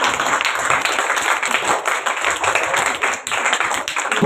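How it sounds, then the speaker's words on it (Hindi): An audience at a school farewell function claps loudly in honour of a guest, dense continuous applause with sharp individual claps standing out near the microphone, no talk over it. "जोरदार तालियों के बीच रियाज भाई का सम्मान किया जाए।"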